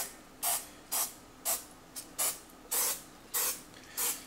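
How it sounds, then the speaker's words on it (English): Eight short hissing bursts from a non-stick cooking spray can, evenly spaced about half a second apart, close and fairly loud against a quiet background. "Non-stick spray."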